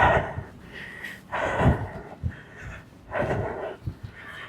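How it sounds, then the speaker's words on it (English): A person with a runny nose sniffs in three wet, snorting bursts, spaced a second or two apart and fairly close, with quiet breathing between them. "I'm so sorry for sniffing as well. My nose is running."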